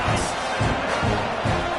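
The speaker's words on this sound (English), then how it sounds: "This crowd, full throat, spreading the eardrums and letting them know it's going to be a long day." Stadium crowd roaring in a college football video game, Florida State versus Pittsburgh, a sustained broad wash of cheering with rhythmic swells, no speech.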